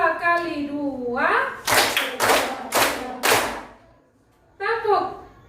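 Four crisp, evenly spaced hand claps from a group of children in a classroom counting game, sandwiched between stretches of talk.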